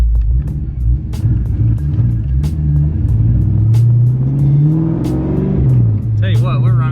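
A cold SN95 Ford Mustang engine revs up loudly and close, the rumble climbing and then settling back, while someone talks over it.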